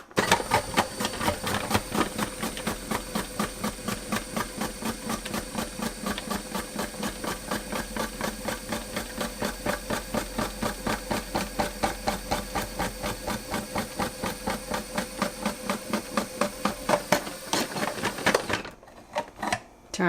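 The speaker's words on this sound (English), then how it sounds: "Unlike other food processors, this Braun slices slowly." Braun FP3020 12-cup food processor slicing produce, a quiet rapid rhythmic chugging of the motor and blade that runs evenly and then stops abruptly near the end.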